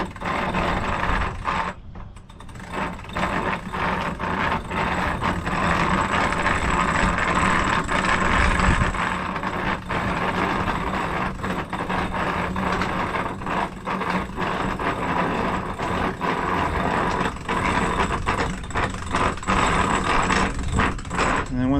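Hand winch being cranked to raise a fold-down swim platform on a Catalina 380 sailboat, a busy stream of ratcheting clicks and mechanical whirring, close and continuous, with a voice briefly present.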